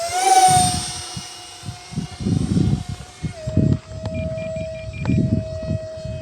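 An E-flite Habu 50mm EDF jet model plane flies with a steady high-pitched ducted-fan whine that shifts pitch slightly as it passes, over gusty wind buffeting the microphone.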